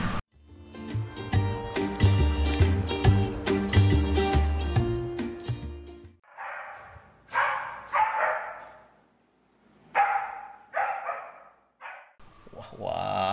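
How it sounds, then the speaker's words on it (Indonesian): A dog barks in short, separate bursts, some loud and some fainter, after a stretch of busy music with no speech between the barks. "ini adalah hewan yang sering menggonggong. Wow, sepertinya ini adalah anjing."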